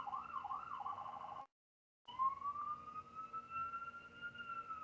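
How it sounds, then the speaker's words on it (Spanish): An ambulance siren passes outside, a faint wailing tone that breaks off briefly and then returns as a steady, slowly rising wail in the background. "Justo está pasando una ambulancia y no sé si el ruido les permite escucharme o no."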